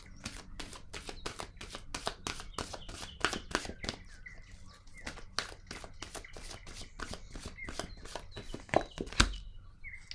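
A tarot card is drawn from the deck with a fast run of crisp card flicks and shuffling snaps, close and fairly quiet, repeating steadily throughout.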